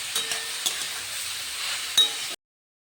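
Chopped bottle gourd drops into a hot pan and sizzles steadily while a utensil stirs it, with a few sharp clinks against the pan, before the sound cuts off abruptly.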